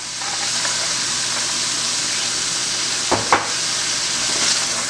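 Vegetables and peas sauté in a hot pan for a chicken stir fry, giving a steady, close sizzle and hiss throughout, with a couple of brief clatters of stirring near the middle.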